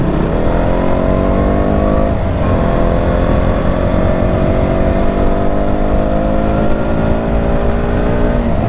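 A KTM Duke 200 V1 2019 motorcycle engine drones steadily while riding, its layered harmonics holding near and loud, with a brief dip in pitch around two seconds, like a gear change, before climbing again.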